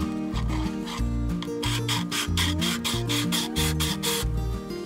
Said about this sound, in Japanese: 全体的に磨いていきます。